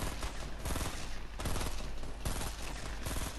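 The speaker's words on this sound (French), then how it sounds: "Mon mauvais, je te tire dessus." Dense, rapid gunfire from the video game Fortnite crackles in sustained bursts with brief gaps, loud and close throughout.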